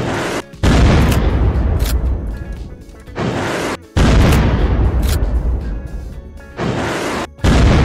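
A rocket is fired and explodes in Unturned, heard as a series of loud, abrupt booming roars that cut in and out sharply, repeating several times at close range with brief silent gaps between.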